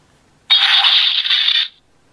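Loud electronic chime burst from a Ninninger Ninja Ichibantou toy sword, a single sustained bright electronic tone with sparkly high sound lasting about a second, close and alone.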